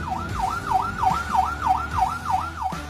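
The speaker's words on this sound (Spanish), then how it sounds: "Este sonido funciona para trayectorias largas o vialidades donde no te detienes" An ambulance siren in its mode for long trips and highways wails in a smooth, evenly repeating rise and fall, loud and close, cycling about three times per second with no voices.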